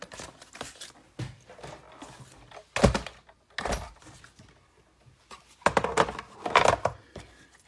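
A Big Shot die-cutting and embossing machine is cranked by hand, giving a few separate close thunks and clunks of the plates and rollers. Short quiet gaps fall between the bursts.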